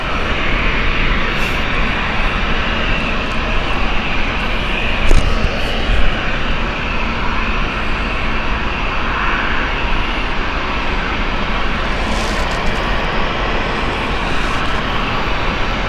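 Airliner jet engines roaring at Gatwick Airport, a loud steady broadband rumble held for the whole stretch as aircraft run up and move nearby.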